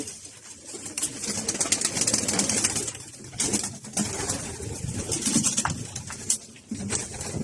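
Young pigeons coo softly and repeatedly at close range, with bird calls overlapping in a continuous, rustling background.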